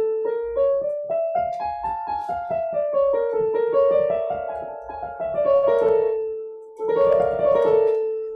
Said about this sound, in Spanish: que nosotros teorizamos en música y la denominamos la famosa escala gitana